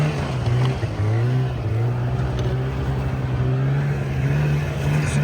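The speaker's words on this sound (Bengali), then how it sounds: "স্নো বাইকে চড়ে গেলাম উপরের দিকে।" A snow bike engine drones steadily and close up, running over thin, patchy snow, its pitch wavering slightly as the rider pushes uphill, with no talking.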